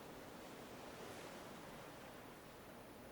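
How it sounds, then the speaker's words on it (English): Ocean waves in Minecraft wash as a steady, soft, broadband surf rush near a shipwreck, continuous and even without distinct breaks, no voices. "You hear the waves."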